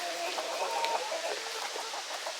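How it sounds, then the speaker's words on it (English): Several chickens clucking softly nearby, a busy overlapping chatter of short calls. "Silly chickens"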